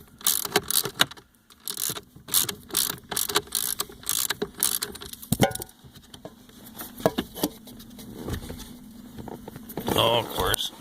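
Bolts are unscrewed with an 8 mm socket while working on a 2007 Toyota Prius heater fan, giving irregular metallic clicks and rattles with jangling handling noise and brief rustles.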